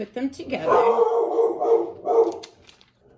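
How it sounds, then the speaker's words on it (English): A dog barks several times in quick bursts close by, while a person talks over it. "Excuse my dog barking."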